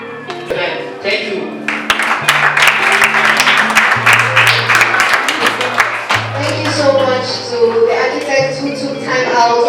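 Children and adults at a school career day applaud a visiting speaker, a dense spread of clapping running steadily throughout over sustained music or tones, with voices mixed in.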